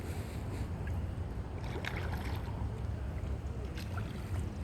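A paddleboard slides off across open water with a steady wash of water and wind noise, soft splashes and faint knocks rising briefly in the middle, no voices.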